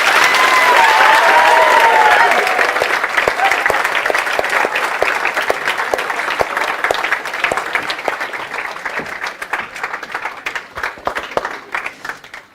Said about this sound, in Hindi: यार, ताली में मजा ही नहीं आ रहा यार तुम्हारे।